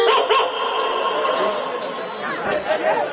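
A performer's voice imitates a dog's bow-wow barking onstage during a Kannada comedy drama, repeated yelps over a steady hum of crowd chatter.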